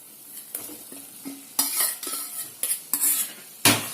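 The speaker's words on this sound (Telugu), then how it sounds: "ఇప్పుడు మనం ఫ్రై చేసుకున్న చికెన్ పీసెస్ ఉన్నాయి కదా అవి వేసేసుకోండి" Fried chicken pieces tumble into a pan for ginger chicken with gravy and get stirred, with several sharp clattering scrapes of a spoon against the metal over a steady low sizzle.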